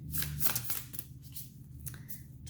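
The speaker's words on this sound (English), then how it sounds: "I love how they shuffle, but man, do they take forever to pop out." Tarot cards riffling and slapping together in a quick shuffle, a soft papery flutter close by with a low hum underneath.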